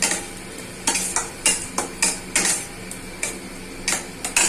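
Spice paste of coconut, cumin, ginger, garlic and onion being stirred in a pan for mochar ghonto, with repeated scraping strokes of a spoon against the metal at an uneven rhythm over a soft sizzle, close and fairly quiet.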